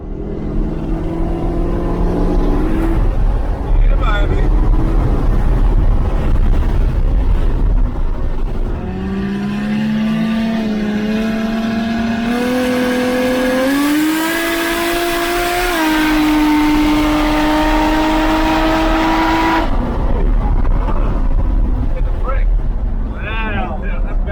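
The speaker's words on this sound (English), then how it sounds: "so it's still on the drag radial, so it's still accelerating while doing the power skid" A car on drag radials at a Powercruise event does a power skid while accelerating, its loud engine note rising and holding through the run with tyre roar, close and steady throughout.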